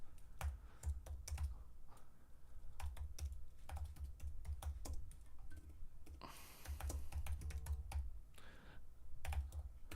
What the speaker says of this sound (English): Oh God, my typing lets me down so bad